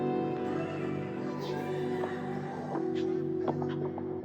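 Layered high and low vocal samples taken from a 90s song blend into sustained, droning tones with a few soft accents, a steady dense bed at moderate level with no one speaking.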